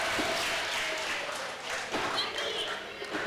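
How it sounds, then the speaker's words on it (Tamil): Audience applause at a prize announcement during a live Vacation Bible School day event: a dense, steady wash of many hands clapping, fairly loud and continuous throughout, with no clear talk over it. "கைத்தட்டல் எல்லாரும்."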